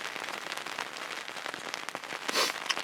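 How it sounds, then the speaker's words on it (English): Rain patters steadily outdoors during a rifle deer hunt, a soft crackling hiss of drops with a few louder splashes near the end. "Well, if you can hear that, that is rain."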